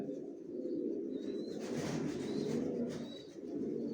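Johnson-line racing pigeons coo in a loft, a dense, steady low murmur of many birds overlapping continuously, with a few faint higher chirps on top.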